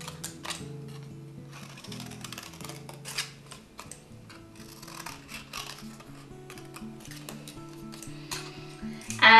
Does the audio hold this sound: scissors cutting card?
yes